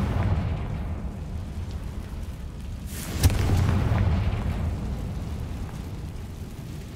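A Confringo fire spell from Hogwarts Legacy bursts with a sudden boom, one sharp blast followed by a rumbling roar that lingers for about a second over a steady background of game ambience and low drones.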